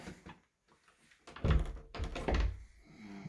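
A door whose lock was picked is forced open, giving two heavy, close thuds with wooden rattling and scraping, after a brief quiet stretch and without talk.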